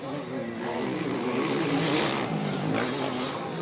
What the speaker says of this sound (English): There's Parker, good start for him this time